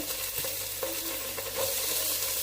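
Onions with ginger-garlic paste frying and being stirred in a pan while making a prawn roast: a steady close sizzle with a few soft scraping stirs, no voices.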